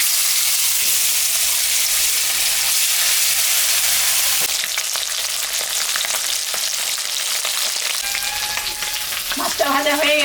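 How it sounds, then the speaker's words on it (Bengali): Rohu fish, salted and coated with turmeric, frying in hot oil in a wok, giving a loud, steady crackling sizzle throughout, with some stirring and clinking toward the end. "আমি এখন মাছটা ভাজবো।"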